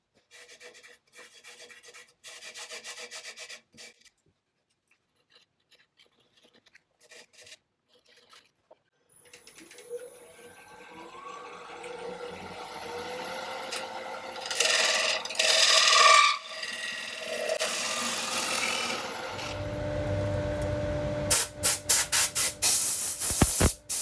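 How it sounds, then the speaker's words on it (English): Abrasive paper rubs against a laburnum wood bowl on a lathe, working up to 240 grit: soft scraping strokes start faint and sparse, then swell into a steady hissing rasp with brief sharper bursts near the end. "that's sanded down to 240 grit"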